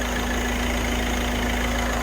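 A Kia Pride's engine idles quietly and smoothly, cold with coolant at zero degrees and the cylinder head cover free of shaking, a steady even hum heard alone and close.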